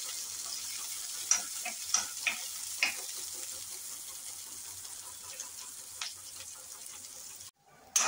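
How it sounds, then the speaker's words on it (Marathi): Sliced large onion frying in a pan until reddish brown, a steady close sizzle with a few sharp clinks of a spoon against the pan and a brief cutout near the end. "तो भाजून घ्यायचा आधी. लालसर कलर येऊपर्यंत भाजायचा."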